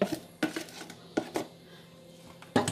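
Grated potatoes and onion are mixed in a bowl, a utensil knocking against the side in a few sharp clinks between softer scraping and stirring, close and fairly quiet.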